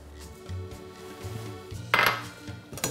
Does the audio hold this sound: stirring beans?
yes